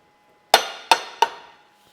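Three sharp metallic impacts with ringing decay, evenly spaced about a third of a second apart, loud and close, from a hydraulic press working a part during a Land Rover Discovery 2 ACE system rebuild.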